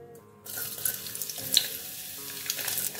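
Chopped onion dropped into hot cooking oil in a pot, bursting into a steady, bright sizzle after a brief quiet start, with fluctuating crackles throughout.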